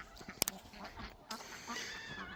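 Ducks on a farmyard pond give scattered, fainter quacks, broken up by a sharp clatter near the start and low background noise, with no clear talking.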